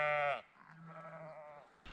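A sheep bleats once up close, a short loud wavering call, followed by quieter bleating farther off in a rainy outdoor setting.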